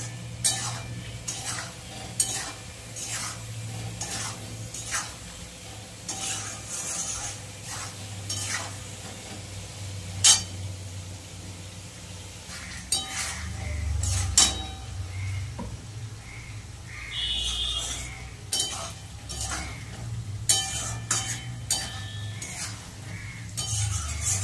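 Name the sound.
potatoes and pointed gourd being stir-fried with spices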